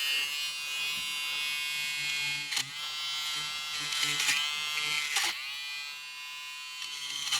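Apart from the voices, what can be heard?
electric shaver trimming Honda Civic seat fabric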